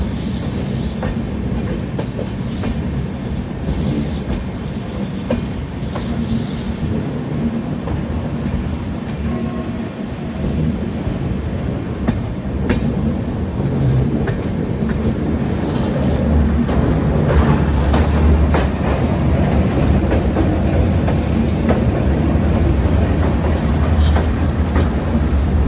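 An Indian Railways train runs along the tracks in a loud continuous rumble heard from on board, with rhythmic wheel clatter, occasional squeals and a steady high whine, and no voices.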